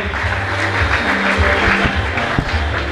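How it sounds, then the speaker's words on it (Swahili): Crowd applause at a church seminary graduation certificate ceremony in Moshi, greeting the Best Female Camera Holder award recipient; steady, dense clapping throughout with a low hum underneath. "tunaye Lulu Safiri Kondela, weka makofi kwa ajili yake"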